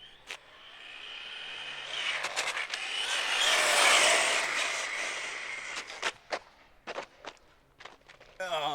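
A Traxxas Slash 4x4 RC basher car speeds past at about three-quarter throttle; its motor whine swells as it nears and fades as it moves off, followed by scattered sharp knocks and clatters.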